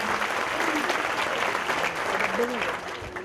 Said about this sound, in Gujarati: તાળીઓના ગડગડાટથી હમણાં આપણે જોરદાર અભિવાદન કરીએ.